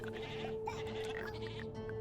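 A goat in the tower defense game Gnomes bleats in a quavering cry over a steady game hum, faint and up close, with no talking.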